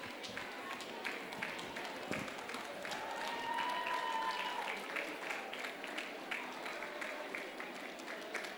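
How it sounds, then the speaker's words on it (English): Applause from the audience at a BMA Onam 2024 celebration, thanking the event sponsors: steady, moderate clapping spread across a crowd and lasting throughout, with some speech-like sound mixed in. "can we have a big round of applause for all the sponsors who have supported us for this event today?"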